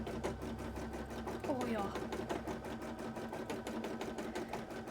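A sewing machine stitching a cosplay costume runs steadily and close by throughout, its rapid needle rhythm continuing under a few brief spoken words.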